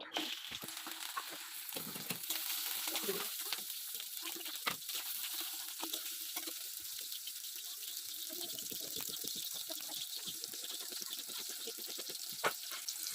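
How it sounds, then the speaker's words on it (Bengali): Onions dropped into hot mustard oil, a continuous bright sizzle and crackle with frequent stirring scrapes and pops, fairly close and steady throughout. "তো তেলটা গরম হয়ে গেছে। তো এবার পেঁয়াজগুলোকে ছেড়ে দেবো।"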